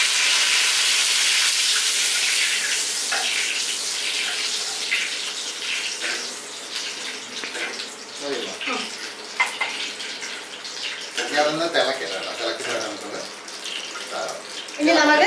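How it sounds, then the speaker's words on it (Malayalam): Water poured into hot oil for dhokla tempering gives a strong, hissing spatter that settles into a bubbling sizzle, with louder crackling bursts toward the end. "ചൂടെണ്ണയ്ക്കകത്തോട്ടാണ് നമ്മൾ വെള്ളം ചേർക്കുന്നത്."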